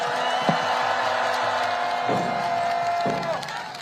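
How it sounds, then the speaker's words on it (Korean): Crowd applause at a Korean political campaign rally: a steady wash of clapping with a few sharper thumps, holding level before easing off near the end. "다시 한번 큰 박수 부탁드리겠습니다"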